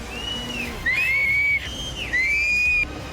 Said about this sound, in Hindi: लोगों को आगाह करने के लिए लगातार सीटियां बजाई गई